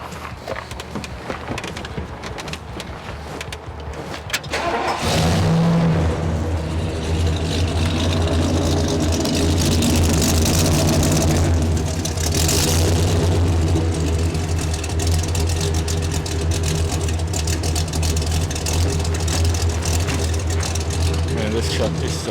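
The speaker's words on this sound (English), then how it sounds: "I think we might need to fire it up because everyone's going to be curious" After a few seconds of quiet, a 1977 Ford F250 crew cab with 49k original miles fires up and settles into a loud, steady idle that carries on throughout.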